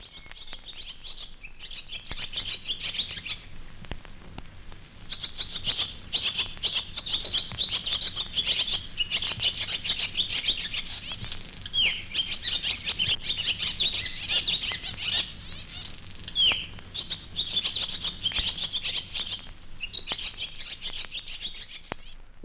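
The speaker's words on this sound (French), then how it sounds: "Oiseaux sur les fils et sur le balcon" A dense flock of small birds chirps and twitters on wires and a balcony, a continuous bright chatter in repeated waves over about twenty seconds, moderately close, with no voices.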